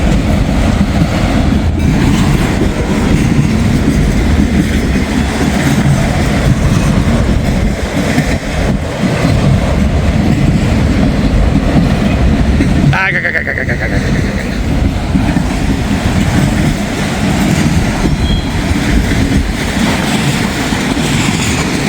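A freight train hauling empty auto rack cars rolls steadily past close by, a continuous loud rumble with rail clatter throughout, and a brief sharp metallic squeal partway through.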